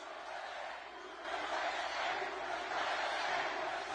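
A big crowd at a Donald Trump rally in Nevada, a broad distant roar of cheering that swells louder after the first second and holds steady.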